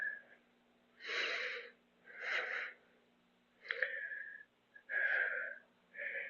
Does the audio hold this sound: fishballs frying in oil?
no